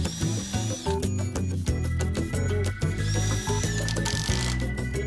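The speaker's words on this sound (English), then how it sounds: "So I'm pre-drilling all the holes, and Matt's going to come through and screw" A power drill pre-drills holes in deck boards for Stratco Pro Beam flooring, giving a close, loud motor whine that surges and stops in short repeated bursts.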